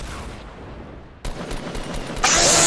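An RPG rocket launcher fires in the video game Fortnite, producing a sudden loud blast followed by a bright, roaring burst of noise amid continuous game sound, with no speech.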